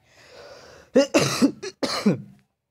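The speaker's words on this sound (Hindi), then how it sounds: "सॉरी, खांसी आ गई थी।" Several harsh coughs in quick succession, close and fairly loud, trailing off into silence.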